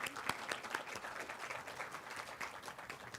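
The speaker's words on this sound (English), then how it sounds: "Round of applause, please." Audience applause fills a nursing white coat ceremony, steady dense clapping from a large group heard at moderate distance, with a few sharper individual claps standing out near the start.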